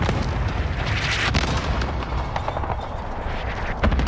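A grenade blast amid gunfire in Call of Duty: Modern Warfare, a dense, loud wash of explosions and shots with sharp booms rising out of continuous battle noise.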